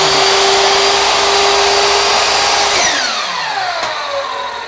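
Miter saw cutting through a workpiece, one loud sustained whine running at full speed and then spinning down with a falling pitch after the cut.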